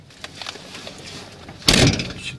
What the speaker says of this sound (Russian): Открой дверь.